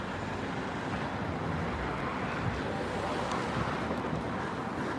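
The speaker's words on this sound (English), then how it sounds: "It's not like cold, it's just windy." Steady broadband wind rushes outdoors in a city, a continuous close roar buffeting the microphone with faint traffic-like rumble underneath and no voices.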